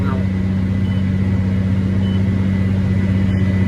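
Kuhn baler running steadily with a constant low mechanical drone and hum, set to wrap five layers, heard as a continuous unbroken machine tone.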